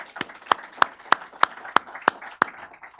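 After a panel discussion, a small audience claps in a steady rhythm, with about eight crisp, distinct claps heard close up, sparse rather than a full roar.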